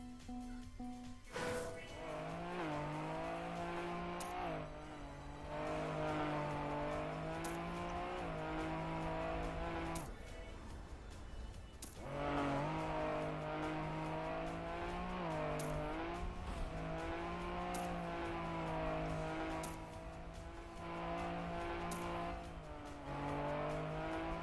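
Race car engine in the Trackmania video game revving steadily at high pitch, with shifting gear-like rises and drops and a few short breaks, loud and continuous across the whole stretch.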